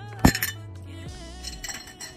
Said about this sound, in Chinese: OK， 我们干杯。